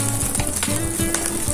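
Pork frying in oil for pinakbet in a home kitchen, a steady close sizzle with brief scraping clicks from stirring, no voices.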